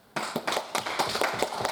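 Scattered audience clapping in a small theatre during a comedy show, a handful of separate, fairly close hand claps in an uneven rhythm, sparse rather than a full ovation.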